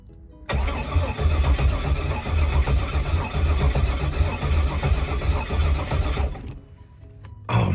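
An LS-swapped Pontiac G8 cranks on its first start attempt with the fuel pump left off. The starter churns loudly and continuously for about six seconds, then cuts out.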